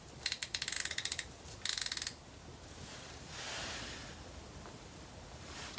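A wrench clicks in two quick rapid bursts while tightening 10 mm transmission pan bolts on a Toyota 4Runner, followed by quieter shop handling noise.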